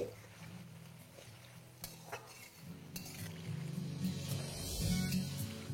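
Potatoes and sweet potato frying in a pan for a vegetarian labra, with a soft sizzle under repeated stirring and clinks of a utensil against the pan, growing fuller and louder toward the end.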